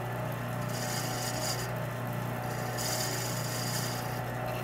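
A wood lathe spins a tobacco pipe while a tool cuts a small chamfer inside the mortise, giving a steady motor hum under continuous dry scraping, with brighter, rougher cutting passes rising twice.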